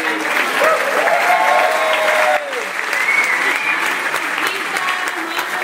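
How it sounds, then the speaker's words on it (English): A gathered audience gives a big round of applause, a steady wash of clapping with voices and cheers audible over it throughout. "So let's give Sam a big round of applause."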